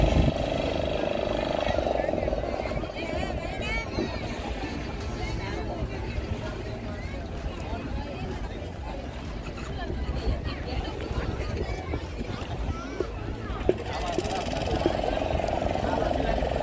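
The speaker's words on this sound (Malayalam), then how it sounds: "ആ പോയത് അടുത്ത ഫിഷിംഗ് ബോട്ട് പോയിക്കൊണ്ടിരിക്കുകയാണ്" A fishing boat motors past on open water, a steady low engine drone blending with surrounding noise while a person talks over it almost continuously.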